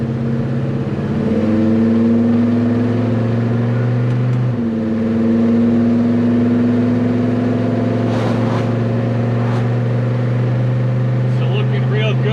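A Chevelle prepared for track events runs at steady part throttle, a deep, even engine drone with a single shift in pitch partway through. Someone speaks over it near the end.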